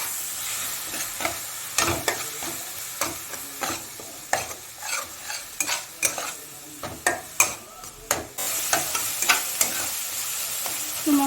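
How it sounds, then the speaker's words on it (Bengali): Spice paste of ginger paste, chopped tomato and green chilli frying in a pan for a stuffed pointed gourd dish with prawns, steady loud sizzle broken by repeated scraping spatula strokes against the pan, close and with no talk. "দিয়ে মশলাটাকে একটু ভালো করে ভেজে নেব।"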